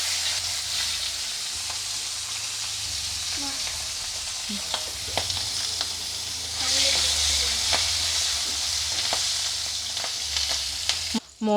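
Potato pieces fry in mustard oil with whole cumin seeds, making a continuous crackling sizzle with scattered clicks and scrapes from stirring. The frying surges louder partway through.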